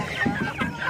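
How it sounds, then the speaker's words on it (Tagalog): Native chickens clucking close by in a brief burst of several short, throaty calls with no talk. "Native chicken po natin yan mga kapatid."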